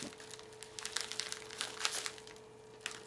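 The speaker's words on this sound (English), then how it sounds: "Gotta be careful, I want to cut the box." A cardboard box holding an S.O.G. Aegis AT MK3 knife is cut open, giving soft, intermittent crinkling and scraping crackles, quiet and close, with no talk.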